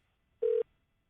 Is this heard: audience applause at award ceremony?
no